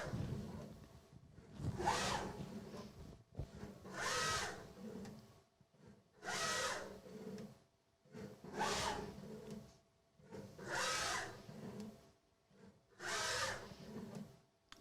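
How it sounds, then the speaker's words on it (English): DATRON dispensing machine moving its probe across a part to measure the surface, a repeated whirring motor buzz in six even bursts separated by short near-silent pauses, close and mechanical. "So we are moving to the first point and then start to measure the surface."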